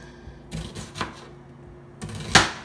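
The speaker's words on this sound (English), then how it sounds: "I'm gonna cut up my onion and my tomatoes first" Knife strokes on a cutting board as onion and tomatoes are cut up for Nigerian egg sauce: a few sharp, separate taps, with the last one loudest, close by with no talk.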